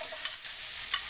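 Small potato pieces sizzle steadily as they fry in a pan, with a few light scraping stir strokes over the constant hiss, close and alone with no talking.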